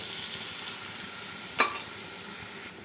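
Mustard gravy for hilsa fish bubbles in a pan after water is added, a soft steady hiss with one sharp clink of a utensil midway, close and low in level.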